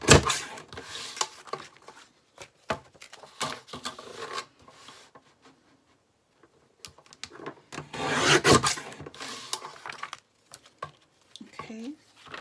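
Paper pages are cut into 3.5 inch strips, making bursts of rasping, scraping cuts with a quiet pause in the middle and a louder stretch near the end.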